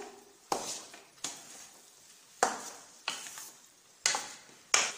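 A spatula stirs a thickening fried rice flour mixture in a pan for laddu in six evenly spaced scraping strokes, each with a soft sizzle that fades before the next. No one speaks.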